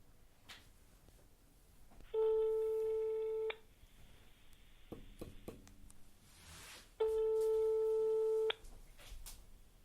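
A telephone rings out during a call, two long electronic ring tones a few seconds apart with a quiet room and faint clicks between them.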